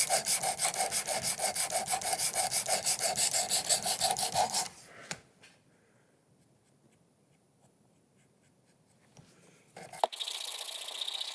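A knife blade drawn across a Worksharp Precision Adjust sharpening stone in rapid rhythmic rasping strokes, loud and close for several seconds, then near silence with faint scrapes before strokes resume.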